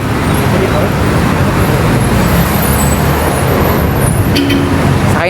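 Car moving through road traffic on the way to a church in Cainta, with a steady, loud roar of engines and tyres all the way through and a brief brighter rumble near the end, under occasional voices.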